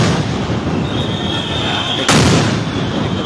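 Police set off a sound grenade at a political rally. One sharp, loud blast cracks out about two-thirds of the way through, cutting across a steady wash of crowd and street noise.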